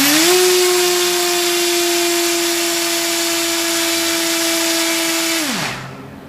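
A 2822 brushless motor spinning an HQ 8x4.5 propeller on a thrust test stand gives a loud, steady whining hum with constant pitch, then spins down near the end, with no talking.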